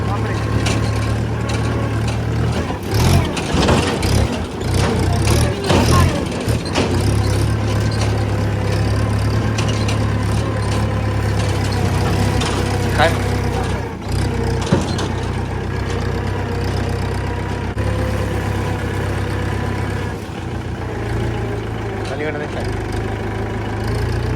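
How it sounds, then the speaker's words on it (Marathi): A tractor engine runs steadily while being driven on a village outing, a constant low drone throughout with occasional knocks and bumps, and people talk over it. "ट्रॅक्टर चालवायला इतकी मजा आली माहिती का"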